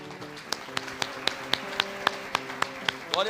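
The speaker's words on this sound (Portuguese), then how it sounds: "Uma salva de palmas ao Senhor." A church congregation claps for the Lord after a prayer: about a dozen sharp, separate claps keep a steady slow beat in a room with sustained music, and the clapping grows denser at the end.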